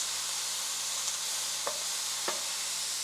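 Beef and cabbage stir-frying in a pan give a steady, soft sizzle, broken by two or three brief scrapes as the mix is stirred.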